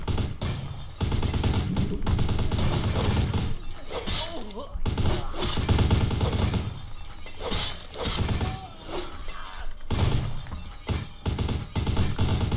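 Gunfire and shattering glass in Vampire: The Masquerade – Bloodlines, with cracks and crashing impacts scattered through a dense, noisy combat mix, and a voice talking over parts of it.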